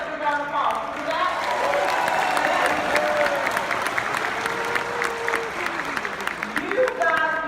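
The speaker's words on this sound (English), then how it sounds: "If you're glad to be here this morning, give yourself a round of applause." A morning audience applauding and cheering itself, a broad steady roar of clapping and crowd noise with voices mixed in and a tonal line gliding through the middle, holding a fairly constant level.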